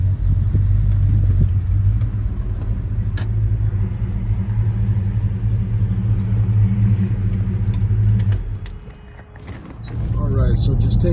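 Steady low V8-style engine rumble of a 1970 Dodge Charger R/T SE cruising along a back road, dipping briefly then swelling again, with faint rattles inside the cabin.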